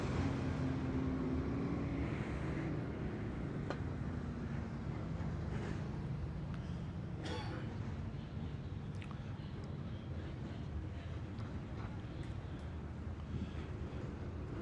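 Street stock race cars crossing the finish line at a PIR oval track race, heard as a steady, fairly distant engine rumble that holds for the whole stretch without sharp passes.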